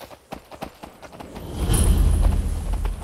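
Horse hooves clip-clop in Skyrim, a run of crisp evenly spaced hoof strikes at first, then blurring into a heavier low rumble as the pace picks up, close and with no voices.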